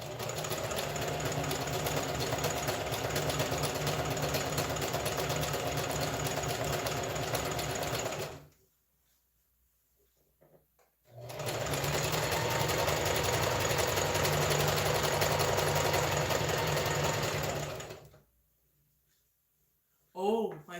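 Stitching on a butterfly top, a sewing machine hums loud and close in two long continuous runs of about eight and seven seconds, each cut off by a sudden stretch of silence.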